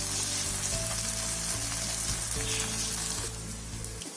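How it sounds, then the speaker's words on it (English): Raw banana slices fry in a pan on a medium flame, giving a steady loud sizzle with faint stirring or clinking sounds over about four seconds; no speech. "So now we have to fry it on medium flame."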